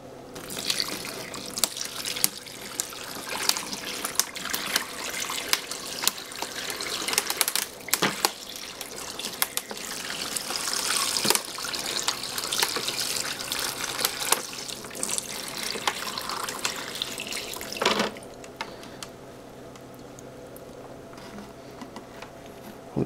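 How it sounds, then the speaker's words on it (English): Water is poured and trickled continuously with irregular splashing and clicking patter, close and moderately loud, during extreme CPU overclocking, then drops to a quieter trickle near the end. "And now I'm going to add a little bit of water."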